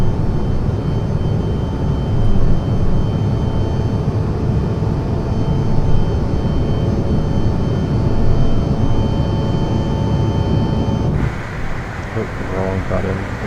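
Airliner engines in Microsoft Flight Simulator 2020 on a Lufthansa flight hum steadily, a loud constant broadband drone that shifts near the end, heard alone with no talk.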